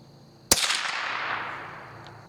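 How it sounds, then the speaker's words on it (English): A single sharp crack from a rimfire rifle firing CCI Mini Mag ammunition outdoors, loud and close, followed by a long fading echo across open ground. "we're just going to shoot 2 shots into it just to see what kind of performance we get"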